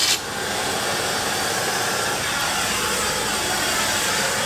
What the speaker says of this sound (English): the first thing you want to do is vacuum it off first